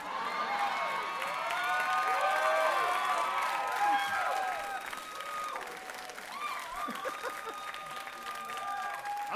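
A comedy club audience of women cheers and applauds loudly, with high whoops and shouts over dense clapping that fades slightly toward the end.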